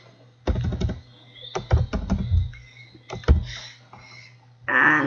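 Bursts of keyboard typing on a computer while writing Flash code, with clusters of quick near clicks separated by short pauses, sounding alone and clear.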